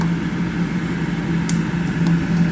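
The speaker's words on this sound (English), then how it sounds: "We're gonna light the stove up." A gas stove lit for a seafood boil gives a loud, steady roar with a low hum throughout, close by and with no talk.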